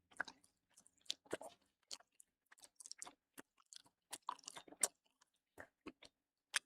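A person chewing food close to the microphone, with irregular wet crunching and biting sounds over several seconds, fairly quiet, with no talking.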